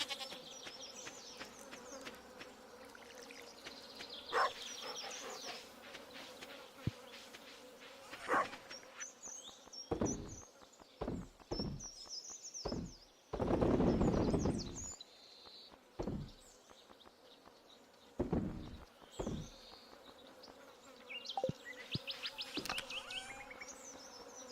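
Bees in the Stardew Valley farming game buzzing near a farm: intermittent close, loud buzzing bursts come and go over a quiet ambient bed, with one long swell in the middle.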